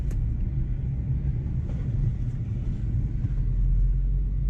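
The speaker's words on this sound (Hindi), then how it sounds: "तो अब बढ़ाते हैं गाड़ी को आगे" A five-year-old Hyundai Grand i10 with about 110,000 km and a slightly tight clutch cable pulls away, its engine giving a loud, steady low rumble close by with no pauses.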